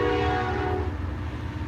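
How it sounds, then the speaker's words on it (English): A BNSF or Union Pacific freight train passes and sounds its horn, a loud sustained chord that cuts off partway through and leaves the heavy low rumble of the rolling train. "Another train."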